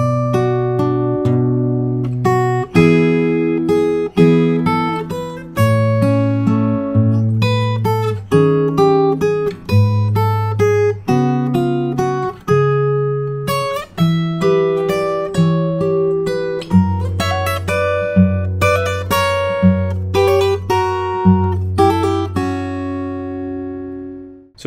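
Fingerstyle acoustic guitar plays the second half of the B section of the Howl's Moving Castle theme, a steady stream of plucked melody notes over bass notes and chords, close and clear, with no talking.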